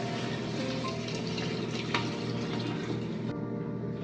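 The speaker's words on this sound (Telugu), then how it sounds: "3 గ్లాసెస్ వాటర్ పోస్తున్నాం" Three glasses of water poured at once into a biryani pot for brinjal biryani, a steady loud gushing splash running continuously, then easing slightly near the end.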